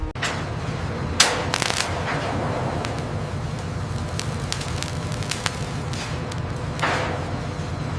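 Mechanical shears slicing molten glass into gobs for marble making in a factory, a roaring furnace-like rumble with sharp metallic snips and clacks at irregular intervals.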